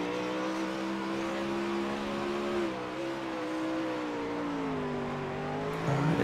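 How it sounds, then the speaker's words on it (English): Dirt-series race cars in a racing video game rev and feather their throttles, a steady droning engine whine with rising and falling pitch that holds loud and continuous and swells briefly near the end. "you can hear them playing with that throttle so much"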